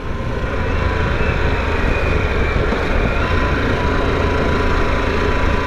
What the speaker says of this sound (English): I can hear the engine more than I can hear the exhaust